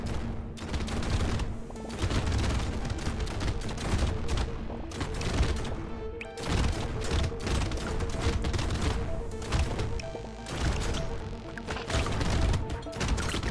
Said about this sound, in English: Something satisfying about watching a bunch of shotguns just going off.